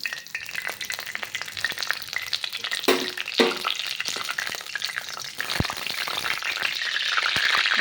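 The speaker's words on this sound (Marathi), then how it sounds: "आता मी ह्याच्यात कढीपत्ता टाकते" Curry leaves crackling and spitting in hot oil for an Indian egg curry, a steady close sizzle with sharp pops and a few louder bursts, swelling slightly toward the end, with no talk.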